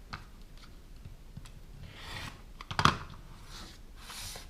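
Fabric quilt block being trimmed, likely with a rotary cutter or scissors, giving soft rubbing and rasping cuts with one sharper slice in the middle; close and fairly quiet, no talking.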